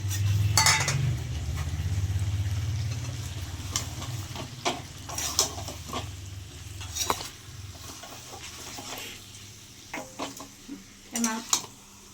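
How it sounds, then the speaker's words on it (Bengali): Chicken curry with potatoes being stir-fried in a pan, a metal spatula scraping and clinking in sharp scattered strokes over a low steady sizzle, close by with no talking. "এইবার এতে আলুগুলো দিয়ে দেব আলুগুলো দিয়েও এবার একটু কষতে হবে"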